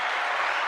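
A short, dense burst of hand clapping, steady and close, with no pauses across its brief length.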